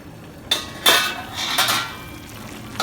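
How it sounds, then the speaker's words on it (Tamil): A lid is set onto a cooking pot of Thanjavur puli kuzhambu, with several close metallic clatters and clinks over a faint background sizzle. "இப்போ இது மேலே ஒரு மூடி போட்டு நம்ம அதை மூடி வச்சிடப்போம்"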